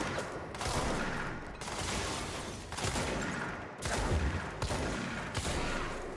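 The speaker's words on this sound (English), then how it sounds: "the shotgun's not too bad, as long as you're very close" Repeated shotgun blasts from the video game Control, several loud bursts in irregular succession, each a broad crack with a rumbling tail over a constant noisy game background.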